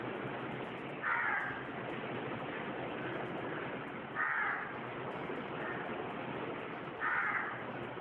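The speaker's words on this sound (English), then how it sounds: "a crow calls out to no one the whole time" A crow at dawn in an empty alleyway caws three times at even intervals, moderately distant, over a constant hiss of background noise.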